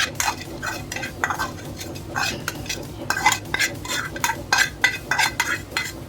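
Mango pulihora rice is mixed with a metal spoon in a pot for a festival meal, giving close, repeated scraping and clinking strokes in an irregular rhythm with no talking.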